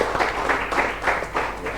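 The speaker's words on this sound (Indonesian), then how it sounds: "Boleh tepuk tangan untuk ketiga narasumber kita" Steady applause from a forum audience on agricultural productivity, given for three guest speakers, a brief, even burst of clapping throughout.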